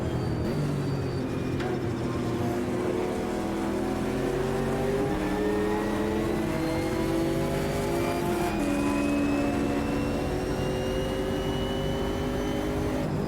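Race car engines roar in the Automobilista 2 sim, with a Porsche and a blue Camaro among the field. The pitch climbs and shifts through the gears, a loud, steady drone with other cars layered close behind.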